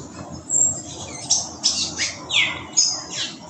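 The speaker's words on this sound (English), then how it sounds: "that call you just heard is a greyish saltator" A greyish saltator gives a close series of about five short, bright whistled call notes in quick irregular succession over a quiet background.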